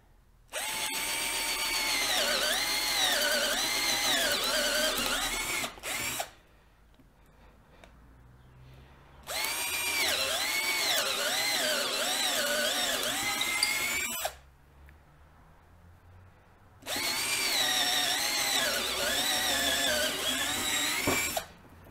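A Black and Decker 12V cordless drill runs in three long bursts of steady, loud whirring, each several seconds long and separated by short quiet pauses, heard close up with no talking.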